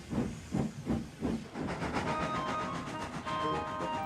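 An animated steam locomotive from Thomas and Friends, with a few rhythmic chuffing puffs of steam, then a continuous close hiss carrying faint whistle-like tones.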